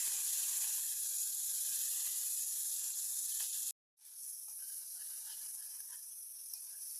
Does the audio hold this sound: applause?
no